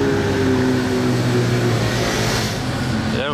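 A Ferrari 576 engine revs loudly nearby, its pitch climbing and falling as it passes along the street, with a voice talking over it.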